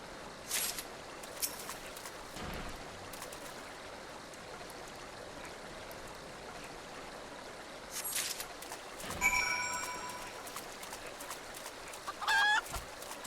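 A green chicken clucks in the video game Final Fantasy XIV: A Realm Reborn, with a few short bird calls rising over a steady wash of ambient game background noise.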